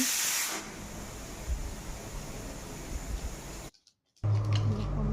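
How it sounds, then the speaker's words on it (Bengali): A pressure cooker of mutton vents steam after its whistle with a loud, continuous close hiss. The hiss cuts out briefly near the end, then resumes. "আমি প্রেশার চাপিয়ে নিয়েছি, সিটি নিয়ে নিচ্ছি।"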